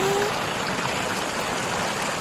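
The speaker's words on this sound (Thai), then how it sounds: "พี่ๆได้ยินเสียงลำธารกันดังนะ" Mountain stream flowing at a campsite on Doi Inthanon, a loud, steady rushing of water that fills the whole moment, close by and unbroken.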